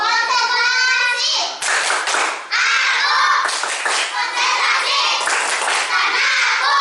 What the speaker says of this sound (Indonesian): Silakan kalian tepuk konsentrasi dulu